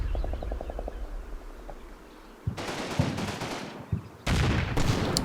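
Combat Mission tank machine gun fire: a faint rapid burst at the start, then louder bursts and booming gunfire further on, interrupted by short gaps.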